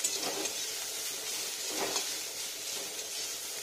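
Radish greens fry with peanuts in a pan, giving a soft, steady sizzling hiss with a few faint stirring scrapes throughout.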